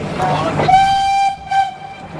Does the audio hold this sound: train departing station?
yes